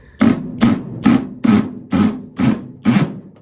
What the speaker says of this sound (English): you can put it on the little hammer mode that we have right now